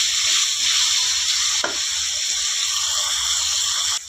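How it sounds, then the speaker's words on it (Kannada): Cut potatoes fry in a deep layer of hot oil with a loud, continuous hiss, broken once by a brief stir, and the sizzle eases slightly near the end. "ಮುಕ್ಕಾಲು ಭಾಗ ಎಣ್ಣೆ ಒಳಗೇ ಆಲೂಗಡ್ಡೆ ಫ್ರೈ ಆಗಬೇಕು ಚೆನ್ನಾಗಿ"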